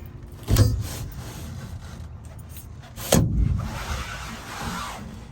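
The sliding rear window of a classic Mercedes moved by hand twice, each time a sharp knock followed by a short rattling glide, close and fairly loud.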